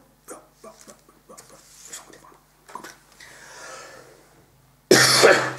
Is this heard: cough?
yes